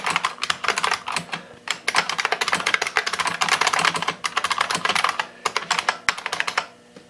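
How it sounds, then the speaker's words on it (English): Rapid, loud clacking of a 1993 IBM Model M keyboard's keys in continuous bursts with brief pauses, close up and with no voices. "it is a very loud keyboard when you type on it"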